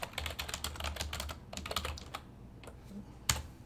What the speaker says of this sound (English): So I type in Newport High School